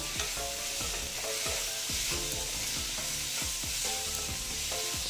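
Eggs and spinach sizzle steadily in a hot pan while a utensil scrapes and stirs in a repeated rhythm, close and continuous, with no talking.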